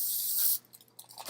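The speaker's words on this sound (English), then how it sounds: "Okay, so spray it well with Pam." Pam cooking spray hisses onto a form for an edible breadstick cornucopia in one steady, close burst of about half a second, followed by quiet handling noises.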